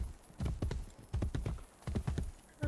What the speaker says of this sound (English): How come his horse goes so much faster than mine?